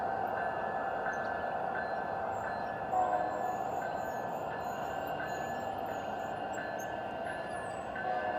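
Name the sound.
G scale model train running, Sierra Northern Railway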